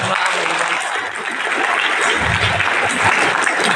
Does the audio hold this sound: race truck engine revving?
no